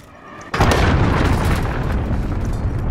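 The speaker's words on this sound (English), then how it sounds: "Allied cruise missile away" Call of Duty cruise missile impact: a sudden heavy boom bursts in after a quiet moment, then a long loud rumbling roar that slowly fades.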